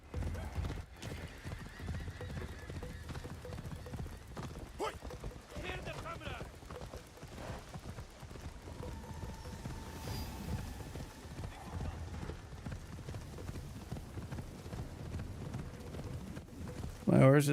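A horse gallops with steady clip-clop hoofbeats and lets out a whinny in the video game Assassin's Creed Shadows, over a constant rain-like hiss, with a voice now and then.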